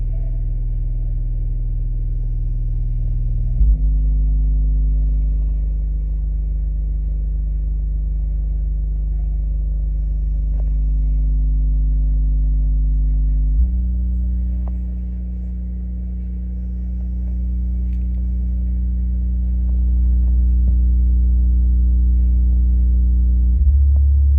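A subwoofer plays a low-frequency bass test tone of around 40 Hz for a home audio demo, a loud, sustained deep rumble that steps between pitches several times with no talking.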